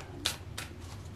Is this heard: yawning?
no